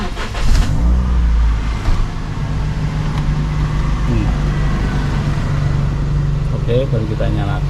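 A used car's engine starts and settles into a steady idle in neutral during a pre-purchase inspection, its low rumble continuous beneath a voice talking close by.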